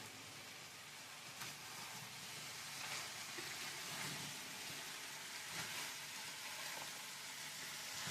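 Diced sweet potatoes cooking in an oiled skillet, a faint, even sizzle with soft scraping as they are stirred, distant and low, no one speaking.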